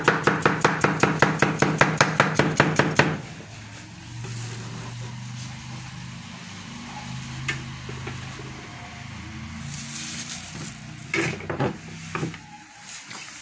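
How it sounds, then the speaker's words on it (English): A knife chops through cucumber on a board in a fast, even run of about a dozen crisp strokes, then stops, leaving quiet kitchen handling noise and a few scattered knocks. "I'm going to cutting the cucumber salad"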